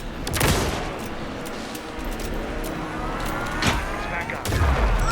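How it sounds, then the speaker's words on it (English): Gunfire in the video game Alan Wake 2, a few sharp shots standing out over a dense, busy game soundscape with low rumbles; voices are heard nearby. "Anderson, pin him down with gunfire for me to get the light on him"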